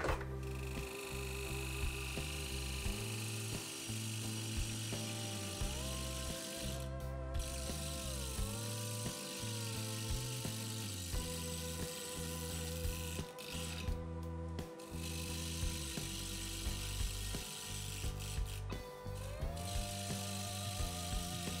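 A lathe spinning an off-center workpiece at 1500 RPM during beading work, giving a steady loud mechanical whir with layered rhythmic tonal hum and brief shifts in pitch, running continuously with no talk.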